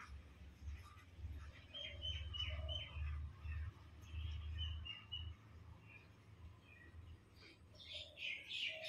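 Pet doves coo in soft, low repeated phrases close by, joined by light chirps and higher twittering toward the end, all fairly quiet.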